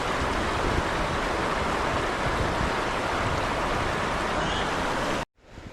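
River water in Sanxia, Taipei, Taiwan rushes loudly and steadily as a continuous close flowing roar, then cuts off abruptly near the end.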